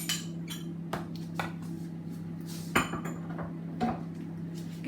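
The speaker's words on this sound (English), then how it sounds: "scrape all the rice out" Cooked rice being scraped out of a pan with a utensil: a run of scraping strokes and sharp metallic taps over a steady kitchen hum, close and fairly quiet, with no talking.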